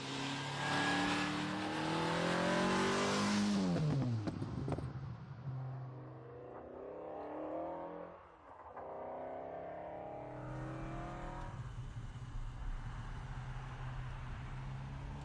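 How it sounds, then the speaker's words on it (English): TVR Cerbera sports car with its in-house TVR engine accelerating hard, a loud rising roar that climbs through the revs and peaks, drops away on a gear change, then surges again before settling into a steady, powerful drone. "I am driving the noisiest, most exciting and fastest car this side of a Lamborghini Diablo."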